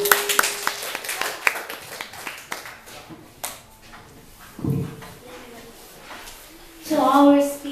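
A small debate-class audience gives scattered, uneven hand claps for the next affirmative-team speaker, fairly close and brief, fading as a voice begins talking in a hall.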